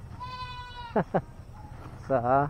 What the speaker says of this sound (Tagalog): May kambing. Ang kambing talaga.